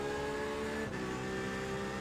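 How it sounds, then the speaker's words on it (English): A race car engine holds a steady, loud drone in iRacing during the Le Mans 24-hour race, with a brief dip and pitch shift midway, as if another car closes in behind. "Oh, it is your engine I can hear"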